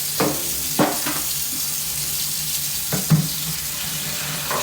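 Running water from a kitchen tap pours steadily while dishes are washed by hand, with a few clinks and knocks of crockery scattered through the constant hiss.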